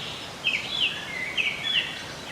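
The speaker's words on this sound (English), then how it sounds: "Yeah, the birds are chirping." Birds at a butterfly ranch chirp in a few short, high tweets over a soft outdoor background, faint to moderate and spaced through the moment.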